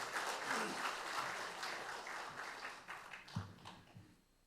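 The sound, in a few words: big applause welcoming the next speaker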